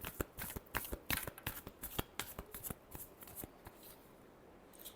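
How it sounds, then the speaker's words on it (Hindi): Tarot cards are riffled and shuffled by hand in quick crisp bursts of flicking snaps, close and soft, trailing off into quieter handling at the end, with no voices. "Last shuffle."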